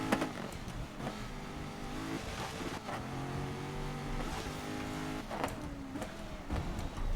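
Car engine in the racing game GRID (2019), a steady loud drone with shifting revs and gear changes running throughout, with brief sharper bursts near the start and end.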